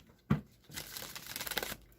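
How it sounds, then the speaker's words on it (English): A tarot card deck is shuffled up close, one sharp riffle followed by a longer run of fluttering, crisp card slaps, then another quick burst at the end, with no talking. "I'm going to give it one more shuffle, then I'll cut the deck and draw the cards."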